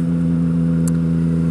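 A Yamaha MT-09 motorcycle engine runs at a steady, loud, close throb with a constant rumbling tone and no voices.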